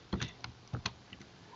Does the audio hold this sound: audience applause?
no